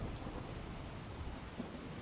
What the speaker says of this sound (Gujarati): સાપુતારામાં પણ વરસાદ વરસી રહ્યો છે